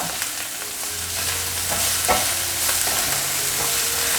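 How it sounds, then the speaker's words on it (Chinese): Minced celery and celery leaves stir-fried in a hot wok give a steady, close sizzle, with scattered scraping strokes from the spatula and no voices. "现在放入芹菜末，芹菜的叶子也一起放进来，快速翻炒。"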